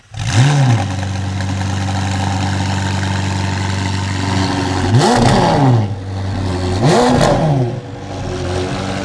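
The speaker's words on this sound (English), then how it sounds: "Let's talk about the exhaust, which sounds absolutely glorious." A McLaren 720S with a Novitec N-Largo widebody exhaust idles loudly, then revs sharply twice, the exhaust rising and falling in quick throaty blips.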